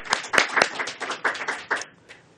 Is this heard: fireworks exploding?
no